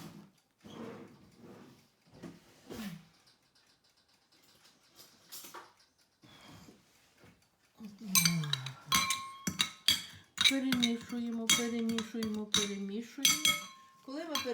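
A spoon clinks and scrapes against a bowl as food is stirred, starting quiet and growing into busy, rhythmic clatter near the mic.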